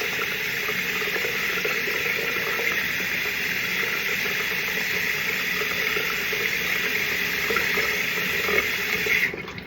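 Water runs steadily from a tap for washing during a skincare routine, a continuous even splashing stream with no talking over it.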